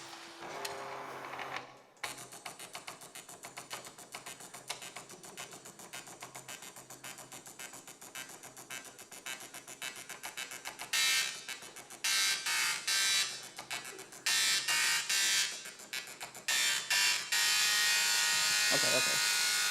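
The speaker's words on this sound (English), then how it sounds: "There's these communities of people on the internet who like to get old printers like this." Old printer mechanism made to play music: a steady mechanical buzzing and whirring that runs throughout, growing louder and more tonal toward the end, with bursts of higher pitched stepping tones.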